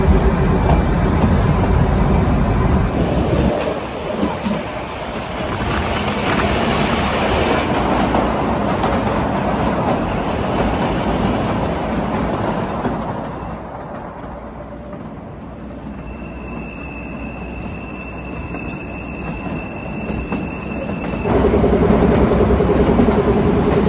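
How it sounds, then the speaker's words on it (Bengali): The Shimla toy train, a narrow-gauge mountain railway among hills, rumbles loudly and steadily on its rails, with wheel noise and a faint high squeal near the end and no speech. "এই হচ্ছে আমাদের টয় ট্রেন দাঁড়িয়ে আছে, আর চারিদিকে পাহাড়ি পাহাড়।"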